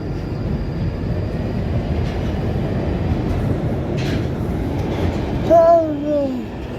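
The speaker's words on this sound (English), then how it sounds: "This is the Northern Line train terminating at Edgware." A London Underground Northern Line train on the Edgware branch at Camden Town rumbles loudly and steadily, with faint squeals from the wheels or brakes, and a short rising and falling tone comes near the end.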